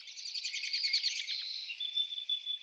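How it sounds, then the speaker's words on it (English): Birdsong in a quiet wilderness: a rapid, bright twittering of chirps that gives way to a sustained high whistle, lively and continuous with no other sounds. "listening to the beauty of the birdsong overhead"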